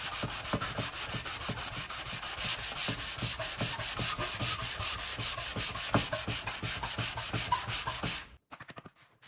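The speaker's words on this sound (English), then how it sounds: "I'm just going to use the side of the sanding block to get a little bit more pressure" Close, rhythmic hand sanding on teak wood with a sanding block, with rapid back-and-forth rasping strokes that continue steadily, then stop abruptly near the end, leaving a few faint scrapes.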